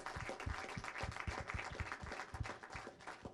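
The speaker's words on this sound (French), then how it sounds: "moi je propose qu'on les applaudisse tous." Soft, continuous applause from the audience at a press conference before a harness-trotting world championship, a dense patter of many hands heard faintly at a distance.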